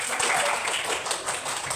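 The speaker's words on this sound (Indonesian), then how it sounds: "Kasih tepuk tangan dulu buat." A classroom of students applauding, a dense busy patter of many hands clapping together, fairly loud and steady for the whole short stretch with no speech over it.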